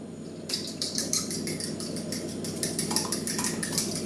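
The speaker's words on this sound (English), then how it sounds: "So I just got the 2 eggs in the bowl and I'm just beating them." Two eggs with a splash of milk are beaten in a bowl, making a quick, steady run of close, light clicking taps as the utensil strikes the bowl, alone without talk.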